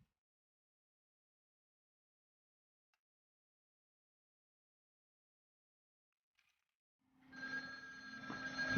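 A telephone rings indoors after a long near-silent stretch, its tone entering around seven seconds in and continuing fairly loud to the end.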